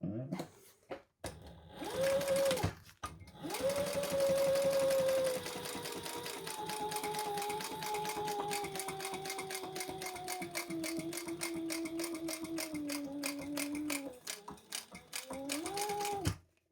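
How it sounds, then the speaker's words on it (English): A sewing machine top-stitches a bum bag seam with the lining piece, running in a steady whirring drone for most of the stretch, with short stops near the start and a brief pause before it picks up again at the end. "we're going to top stitch with that seam allowance going up and your lining piece"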